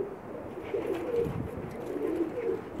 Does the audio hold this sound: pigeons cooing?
yes